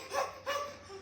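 A puppy gives two short, high yelping barks close by, fairly soft, with a faint hum underneath and no talking.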